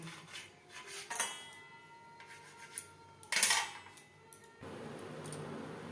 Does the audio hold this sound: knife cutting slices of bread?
yes